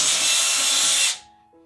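Drill boring a hole through plywood, a loud close grinding whir that runs steadily for about a second and then cuts out abruptly, leaving a faint hum.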